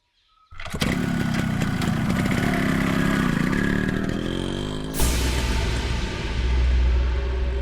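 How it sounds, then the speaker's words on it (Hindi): A motorcycle starts up and revs, its engine droning loud and close. A sharp shift follows as the bike pulls away and the engine note carries on, rising again toward the end. "अभी अभी मेरा बेटा निकला है अपने बाइक पर।"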